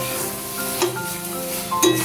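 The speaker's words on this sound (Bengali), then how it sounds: "মাছটা এবার ঢেলে দিচ্ছি।" Bombay duck fish tips into a hot pan with coriander, setting off a steady sizzling hiss with a couple of brief scraping accents, close and fairly loud over a faint musical background.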